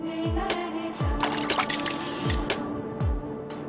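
Water splashed repeatedly during an outdoor film shoot, giving several close splashy bursts and trickles in an uneven rhythm, with a descending tonal sweep recurring beneath.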